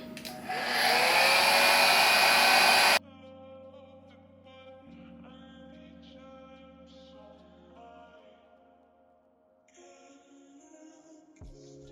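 Hair dryer on its cool setting, drying the lace of a wig, blows loudly and steadily for about three seconds, then cuts off; quieter low hums and faint clicks follow.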